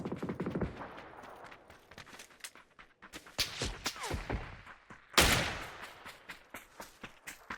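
Gunfire in PUBG rings out as scattered single shots and short bursts, some distant and one louder crack near the end, with quiet gaps between them.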